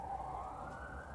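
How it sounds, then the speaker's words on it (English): Ambulance siren on a main road during a large police operation, heard faintly from a distance as a brief steady wail over low traffic rumble. "ambulance"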